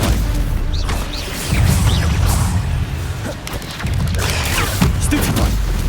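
Stupefy stunning spells cast in Hogwarts Legacy, heard as repeated booming, whooshing magical blasts and impacts layered over a dense, continuous game soundscape.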